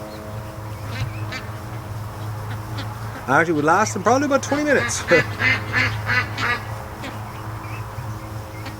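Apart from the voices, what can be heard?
ducks quacking on a free-range duck farm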